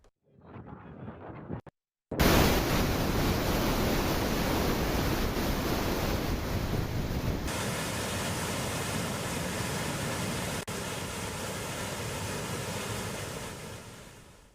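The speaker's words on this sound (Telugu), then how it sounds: "యాదాద్రి భువనగిరి జిల్లా నందనంలో పాతాళగంగ భూమిపైకి ఉబికి వస్తోంది." Groundwater gushes up out of the ground without a motor in a village in Yadadri Bhuvanagiri district, Telangana, a loud, steady rushing roar after a brief muffled start, continuous and close.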